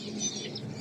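Faint, high chirps of small birds, including lovebirds kept at a home, flicker over a steady background hiss.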